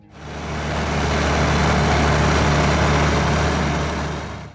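An International Harvester 1066 tractor engine runs with a deep, steady rumble that swells in, holds loud and close for several seconds, then fades slightly, with no voices.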